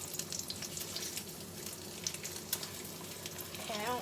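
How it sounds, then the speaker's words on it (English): An egg frying in a pan, with a continuous crackling sizzle and a few sharp scraping clicks as the spatula works at flipping it, faint and close. "But I need to flip this egg."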